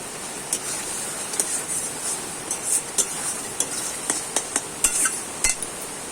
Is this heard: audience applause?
no